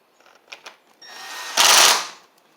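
A chainsaw with a no-spark fault has its starter cord pulled once, giving a quiet tap or two, then a rising whirring rasp that peaks loudly and fades within about a second, with no engine catching.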